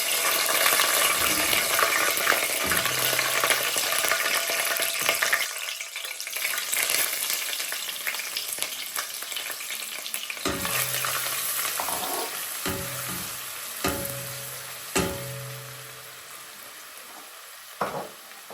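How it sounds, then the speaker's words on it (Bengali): Ginger and garlic fry in oil in a pot with whole spices such as bay leaf, cinnamon and cardamom, making a steady close sizzle broken by stirring scrapes and short clunks of the spoon against the pot. "আদা রসুন একটু গোল্ডেন করে বাজি লাইছি"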